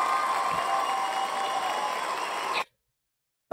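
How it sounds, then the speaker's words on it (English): Steady audience applause at a talk on opioid elimination, a continuous wash of clapping from a crowd, fairly even in level, cutting off abruptly into silence. "I don't think he got enough applause"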